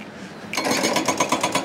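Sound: construction work noise in Las Vegas

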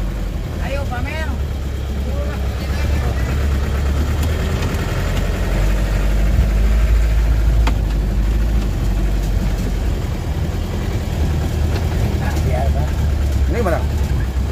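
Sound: Mitsubishi-engined minibus engine running

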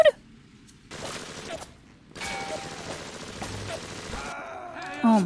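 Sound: machine gun fire in Bioshock Remastered video game

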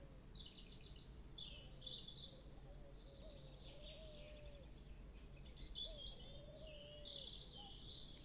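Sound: pigeon cooing in video game Portal of Evil: Stolen Runes

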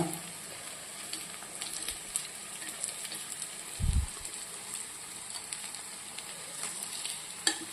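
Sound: unniyappam frying in oil over medium flame

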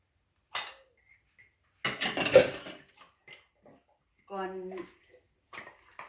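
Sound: dishes being loaded into a dishwasher

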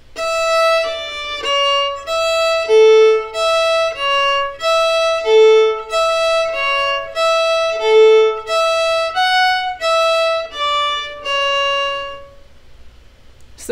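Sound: fiddle playing a phrase of Devil's Dream

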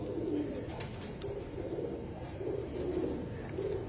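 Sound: pigeons cooing in a loft

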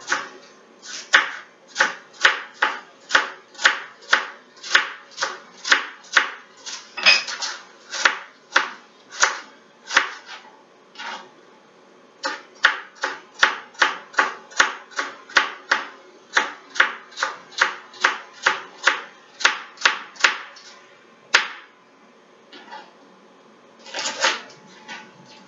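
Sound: chopping carrots with a knife

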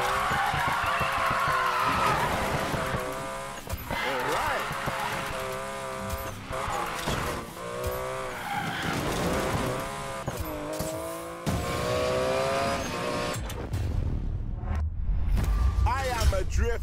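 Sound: car drifting in video game Need for Speed Payback

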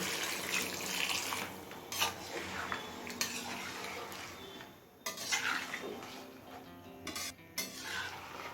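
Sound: hot water poured into potato and green jackfruit curry

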